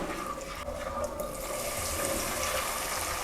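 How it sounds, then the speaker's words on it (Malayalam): A steady liquid pour and gurgling hiss as milk is poured into hot butter caramel, running throughout, continuous and close, with no talking. "ഇനി ഇതിലേക്ക് ഒരു പാക്കറ്റ് പാൽ ഒഴിക്കണം"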